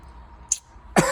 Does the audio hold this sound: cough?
yes